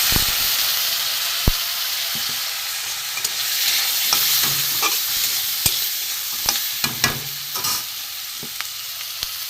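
Water poured into a pan of fish roe fritter curry sets off a steady sizzling hiss, dotted with sharp spatters and pops, with stirring clinks throughout.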